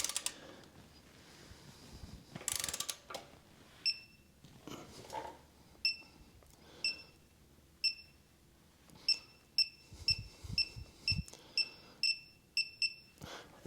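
A torque wrench works on the axle of a 2023 Harley-Davidson CVO motorcycle, giving a run of sharp, evenly spaced ratcheting clicks with a thin metallic ring that speed up toward the end, close and fairly quiet.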